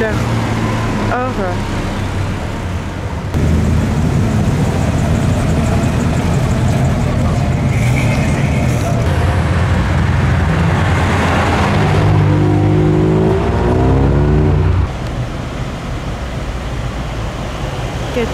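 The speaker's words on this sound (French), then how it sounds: "Aventador SVJ Roadster couleur or" A gold Lamborghini Aventador SVJ Roadster at the Zoute Grand Prix gives a loud, sustained engine roar with a rising rev sweep, heard up close over a crowd and people talking.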